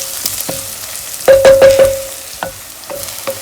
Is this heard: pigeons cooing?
no